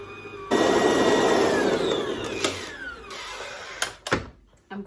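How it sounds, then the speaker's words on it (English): A Kenwood stand mixer starts up and whirs steadily while blending icing sugar and cocoa powder, a loud motor drone with a pitch that shifts, then brief clunks and a sudden stop near the end. "I'm very slowly turning my Kenwood on"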